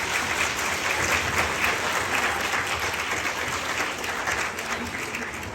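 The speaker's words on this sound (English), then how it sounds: "Let's give a big clap to Desi and his mom." Children give a sustained round of clapping for Desi and his mom, dense and steady for a few seconds before easing slightly.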